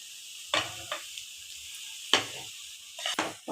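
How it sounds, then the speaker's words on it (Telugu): Cooked toor dal tipped into a hot pan and stirred, with a few short, loud sizzling scrapes separated by quiet stretches, close by and with no talking. "ఆ పప్పుని ఇందులో వేస్తున్నాను."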